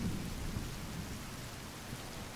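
Steady rain and low rolling thunder in a nighttime forest in the survival video game The Forest, an even broadband wash with a deep rumble underneath, continuous and fairly close, with no voices.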